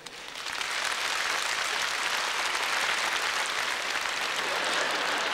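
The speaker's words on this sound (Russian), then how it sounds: "Аплодисменты." Studio audience applause on a Russian TV game show, swelling in over the first half-second and then holding as a dense, even roar of clapping for several seconds, with no voices on top.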